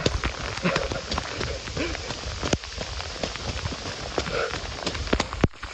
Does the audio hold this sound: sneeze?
no